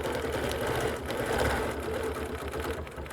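Sewing machine stitching a quilt along a quilting ruler, a steady close mechanical whir and rapid needle chatter running continuously without pause.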